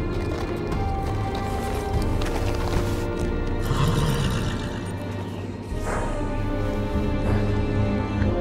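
Horse hooves clip-clop steadily at the Wall, the seat of the Night's Watch, in a Game of Thrones video game, set against a dense, loud bed of game music and ambience.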